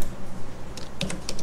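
A short burst of computer keyboard typing, a handful of quick, close key clicks entering a command in AutoCAD, with no voice.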